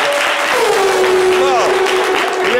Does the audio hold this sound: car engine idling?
no